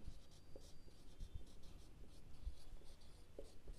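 Marker or chalk scratches across a classroom board during an accounting lecture, soft intermittent strokes and small taps heard quietly at close range against a faint background hiss, with no speech.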